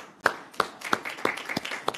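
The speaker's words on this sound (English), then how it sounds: "Let's give her a round of applause." An audience claps at a women-in-energy youth think tank event, giving about six sharp, evenly spaced claps in a steady rhythm, moderately close, with no talking.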